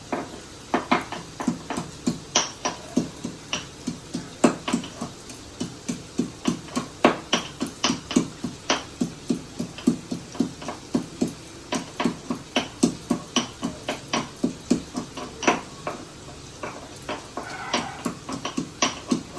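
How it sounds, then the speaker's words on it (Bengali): Ginger is pounded in a mortar and pestle with steady, rhythmic thuds repeating about twice per second for nearly twenty seconds, close and clear with no talking. "এই যে আমার হামলার দিস্তা, আদাটা একটুখানি কুটে নেবো।"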